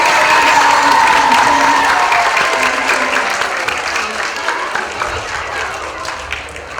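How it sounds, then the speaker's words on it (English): An audience at a PreK–3rd grade school assembly applauds first graders with loud, sustained clapping and some cheering that slowly fades over several seconds. "let's give our first graders a round of applause."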